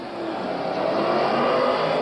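Speedway race cars pull away at the start of a heat at Archerfield Speedway in 1981, one car pouring smoke; a loud, dense engine roar holds steady and builds slightly, with no talking.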